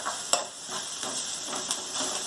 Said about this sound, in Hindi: इसे अच्छी तरह से भूनेंगे, मीडियम आंच पे भूनते जाएं